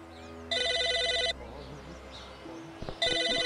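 A telephone rings in the video game Psychonauts: two loud, bright electronic ring bursts separated by a quieter stretch of game ambience.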